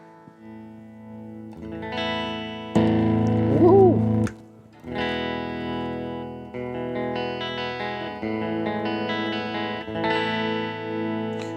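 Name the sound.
electric guitar played through amp with reverb setting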